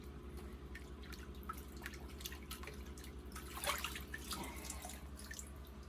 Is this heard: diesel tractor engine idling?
no